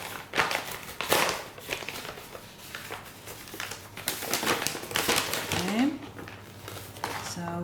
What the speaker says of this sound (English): There's a bit of glue holding the brown paper wrapping together, so let me pull that apart.